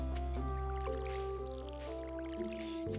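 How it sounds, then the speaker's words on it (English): Crops in the farming game Stardew Valley are watered, heard as soft watery splashing and dripping over cheerful background game music, with no talking. "So we'll water everything."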